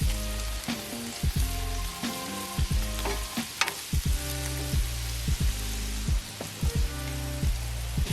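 Meat, onions and melting cheese sizzle loudly on a Blackstone griddle, a steady close hiss broken by repeated sharp metal spatula scrapes and taps in an irregular chopping rhythm.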